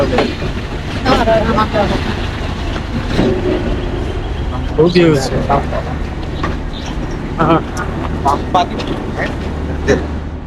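A passenger train rumbles and rattles steadily into Mobarakganj railway station on a rail journey from Khulna. The carriage noise comes from close by with occasional knocks, while people talk over it throughout.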